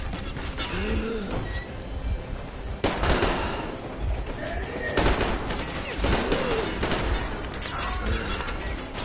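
Gunfire in Metro Exodus comes in several sharp bursts and single cracks spread across the scene, with creaks and voices in between.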